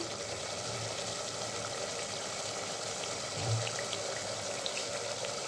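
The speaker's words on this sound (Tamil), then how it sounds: "இப்போ இதுக்கு தேவையான அளவுக்கு நம்ம தண்ணி சேர்த்திக்கலாம்" Water is poured into a pot of mutton biryani, a steady rushing splash that runs on continuously at moderate volume, with a couple of brief low bumps from the pot.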